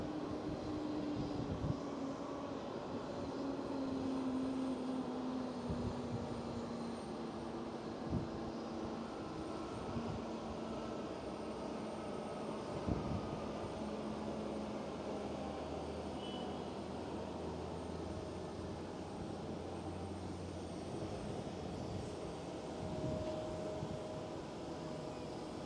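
A TUI Netherlands airliner rumbles at Schiphol Airport in Amsterdam, a steady, distant jet roar that holds for the whole stretch with a faint whine drifting above it and outdoor noise around.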